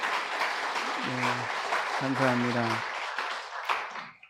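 Steady group applause fills a church during a Sunday service while someone briefly speaks over the clapping, which then trails off.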